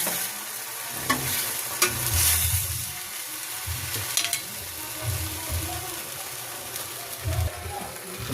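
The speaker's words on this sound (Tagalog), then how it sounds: "Painit na natin yung ham kasi alam naman natin naluto na ito." Precooked ham sizzles softly as it is reheated in a pan, with repeated scraping and stirring strokes of a utensil against the pan and an occasional voice in the background.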